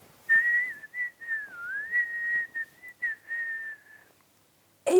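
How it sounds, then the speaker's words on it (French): A person whistles a wavering melody of short connected notes, clear and close against a quiet background, ending abruptly. "c'est toi qui as sifflé"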